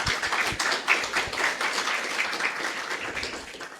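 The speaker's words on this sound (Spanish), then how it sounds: "Un aplauso para Agustín, por favor" Audience applause at a technology talk event, steady dense clapping from a crowd filling the room for several seconds, with no talking.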